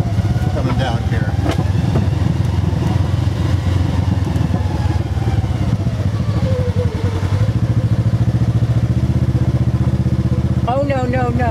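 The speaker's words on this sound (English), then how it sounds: "You can hear the engine brake working coming down here." A 2022 Polaris RZR Trail Premium side-by-side engine braking down a steep rocky trail, its engine droning low and steady with rattling clatter, while people talk over it nearby.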